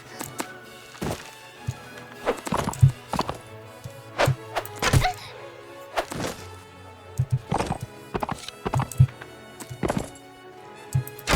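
Horse hooves clip-clop across the ground in the video game Touhou Gensokyo Warfare, the thuds landing in an uneven, irregular rhythm. They sound fairly close and carry over a low game background drone.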